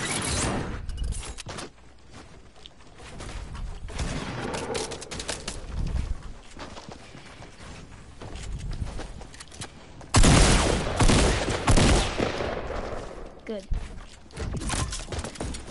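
Bursts of video game gunfire crackle among console game sounds, coming in clusters with a loud flurry partway through, while a person talks over much of it.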